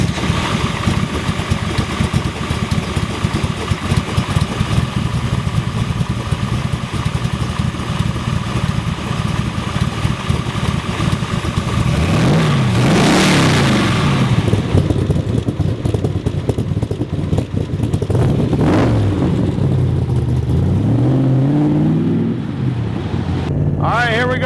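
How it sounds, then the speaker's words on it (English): A Superformance Shelby Cobra replica with a 600-horsepower big block Ford stroker V8 rumbles loudly and continuously up close, with a couple of throaty rising revs near the end. "It's a big block Ford. It's a stroker. It's got 600 horsepower."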